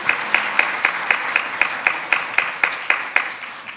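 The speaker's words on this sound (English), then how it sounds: "So give them a round of applause." Congregation applause in a church sanctuary for youth members, a soft wash of clapping with one clear, evenly spaced clapper standing out in a steady rhythm, fading slightly toward the end.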